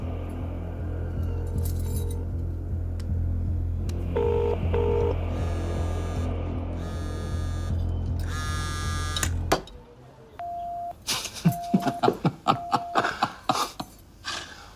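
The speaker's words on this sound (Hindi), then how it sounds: "चल फोन लगा उसे।" Electronic button tones beep in short series over a buzzing hum, followed by a ringing tone and clicks and clatter.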